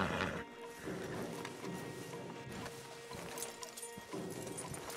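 Horses walk in the video game Red Dead Redemption 2, soft irregular hoof clops over a dull outdoor ambience, moderately loud and close, with no talking.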